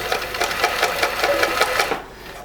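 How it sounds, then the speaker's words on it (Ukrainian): A Privileg 865 manual sewing machine stitches along a fabric edge in a steady, rapid rhythmic whir of needle strokes that stops abruptly near the end, heard close up with no talking. "я можу от взяти і прошити з краю от таким чином."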